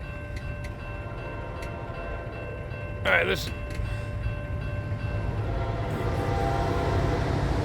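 Amtrak Auto Train passing near Palatka, Florida, heard as a low steady rail rumble with a brief loud horn-like burst midway, the rumble swelling toward the end; a voice speaks briefly.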